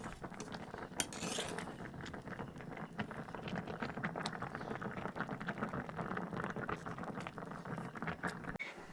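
Rice-flour pitha boiling in milk in a pot, soft bubbling under repeated clinks and scrapes of a spoon stirring around the pot, close and fairly quiet.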